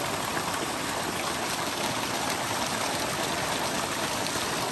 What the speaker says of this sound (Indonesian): Ini ada tiga mata, ada tiga pancuran, satu mata air